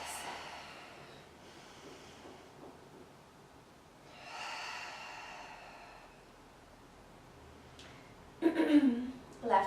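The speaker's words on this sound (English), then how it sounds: "Big full belly breaths." Deep belly breaths during a Bowspring core strength exercise, faint and close, with a long slow inhale swelling in the middle and sharper breathy bursts near the end, amid quiet rustling.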